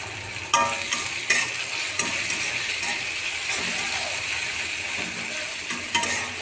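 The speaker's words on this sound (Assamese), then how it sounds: "মই এনেকৈ তেলতে এনেকৈ পিঁয়াজৰ লগতে ভাজি লওঁ" Ginger and garlic paste frying with onion in oil, a soft steady sizzle under occasional sharp clinks and scrapes of a spoon stirring the pan, close and fairly quiet, no talking.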